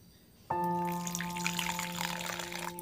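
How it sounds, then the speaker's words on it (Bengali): Warm water poured from a stone vessel into a kasundi mustard mixture, a steady trickling pour that starts abruptly and runs continuously with a ringing tonal splash. "আর একটু আমি জল দেবো।"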